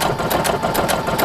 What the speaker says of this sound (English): I just press my foot pedal, and there it goes. And it's going to sew from side to side